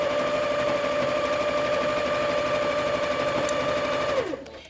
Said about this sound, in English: you're just stepping on it underneath, stepping on your foot pedal, and that's causing it to sew